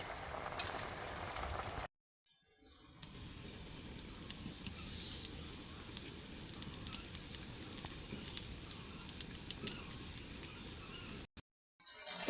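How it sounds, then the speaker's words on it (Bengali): Malabar spinach curry sautéing in a pan for a river tengra fish recipe with potato and sponge gourd, a steady close sizzle and crackle of frying running continuously, broken by a short quiet gap near the start and another near the end. "পুঁই শাকগুলো ভালোভাবে কষিয়ে নিতে হবে"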